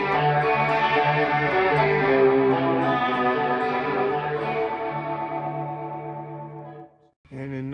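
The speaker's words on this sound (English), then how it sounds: "I put a Leslie sound in number 12: compressor, pensive tone, chorus, reverb," Electric guitar through a pedalboard Leslie preset with compressor, chorus, reverb and short delay, sustained chords with a swirling rotary wobble ringing and decaying, a brief cut, then another chord struck.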